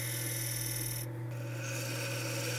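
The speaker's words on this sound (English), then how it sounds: "making some bevel rubbing parting cuts" A parting tool makes bevel-rubbing cuts into a spinning wooden top on a lathe, a continuous close rasping scrape over the steady hum of the machine, with no voices.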